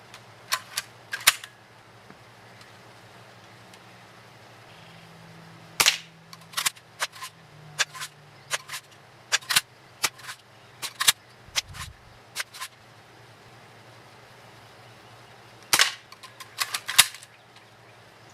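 Daisy Model 25 BB gun firing Hornady smooth polish BBs at a 5-meter competition target from 5 yards: sharp, close spring-air cracks, some single and some in quick clusters, with gaps between and no talk.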